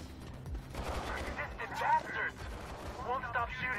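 A turret in the video game Mirror's Edge Catalyst fires bursts of gunshots at a fairly low level, mixed with game sounds and an indistinct voice.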